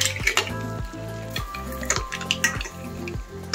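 Mussels drop into a pan of frying string beans and eggplant with shrimp, giving a steady close sizzle broken by several clanks and scrapes of a utensil against the pan, with no talking.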